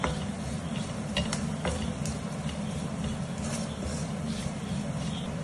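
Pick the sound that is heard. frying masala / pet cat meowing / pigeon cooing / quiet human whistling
frying masala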